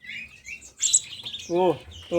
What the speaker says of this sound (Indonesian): Kalau konin trem besi itu, bos, bunyinya aja beda,